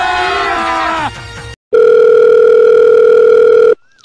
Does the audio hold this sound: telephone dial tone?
yes